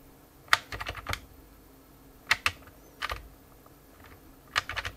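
Bursts of key presses on a Brother WP-1 word processor keyboard, clusters of crisp clicks spaced by short pauses, close and clear with no talk.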